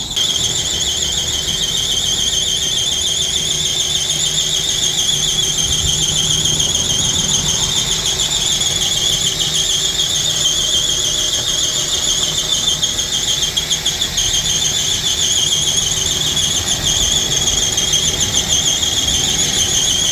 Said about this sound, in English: after 5 minutes of screeching belt